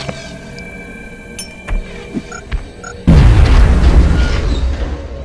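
A grenade detonates with a loud, booming blast in the strategy game X-COM: Enemy Unknown, following a few faint clicks and taps, then a sustained roaring rumble that slowly fades.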